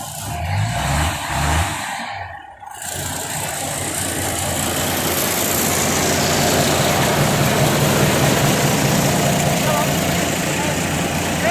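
A working vehicle's engine labouring with a loud, steady drone that builds after a short gear-change pause, while someone speaks briefly at the start.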